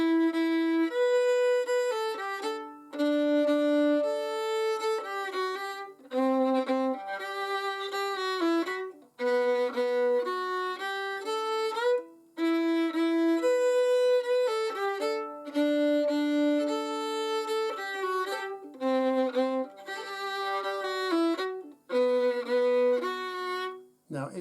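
Fiddle plays the tune Wayfarer with each note fingered separately rather than as held double stops, a steady bowed melody of clear, sustained individual notes with brief pauses between phrases, played solo and close.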